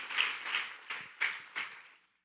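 A church congregation applauds in a brief burst of about five clap-like swells that fade out within two seconds, moderately loud and free of speech.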